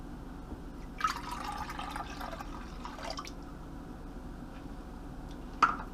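A cup of water goes into a crock pot holding chicken broth: a short, soft pour and splash early on, then quiet, with one faint drip and a small clink near the end.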